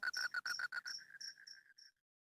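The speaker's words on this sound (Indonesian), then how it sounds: "suara jangkrik menemani sunyinya padepokan" Crickets chirping at night around a quiet hermitage, a steady pulsing trill of close chirps that slows into separate notes and then stops.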